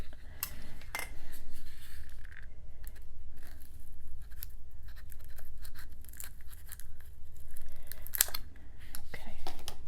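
Scissors snip through actual twine during a Christmas mini album craft project, giving a couple of sharp, close cuts over a quiet, rustling background.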